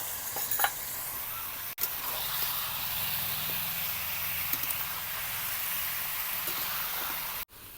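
Chicken pieces fry in hot oil with salt, turmeric and chilli powder in a village kitchen, giving a steady, dense sizzle that runs close and unbroken through the whole stretch, broken only by two brief cuts.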